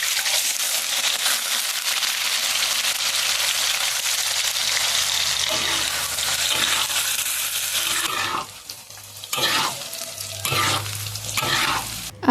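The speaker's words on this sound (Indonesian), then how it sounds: "Jadi ini aku mau goreng dulu untuk tahunya." Tofu fries in a pan on an Indonesian home stove, a loud continuous oil sizzle that fills most of the clip, then drops into stirring and scraping noises with brief bursts of crackle.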